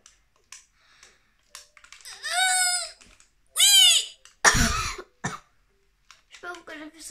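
A single harsh cough bursts out alone amid scattered voiced sounds and brief vocal noises, loud and close to the microphone, with light clicking around it.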